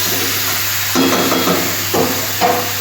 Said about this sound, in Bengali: ফোড়নের তেলের বেগুন ফুলকপি আলু সব একটু ভালো করে ভেজে নিলাম কষিয়ে নিলাম